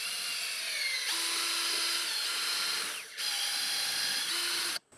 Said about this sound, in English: I'm going to drill one of these and then put the screw through, drill the second one.